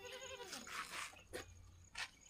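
Goats bleat on a riverside farm homestead, a few short faint calls spaced apart against quiet background.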